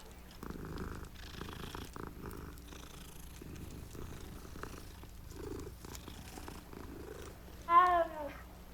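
A cat purrs softly and closely while being petted, a low rhythmic rumble running throughout, followed near the end by a short, louder meow-like cry.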